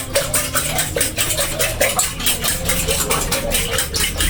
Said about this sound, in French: Maintenant la famille, je mélange bien mes œufs.